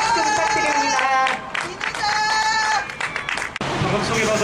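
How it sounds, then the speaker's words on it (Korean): A crowd at an evening candlelight protest rally claps and cheers loudly and steadily, with a voice and sustained tones ringing over the noise. "큰 박수 부탁드립니다."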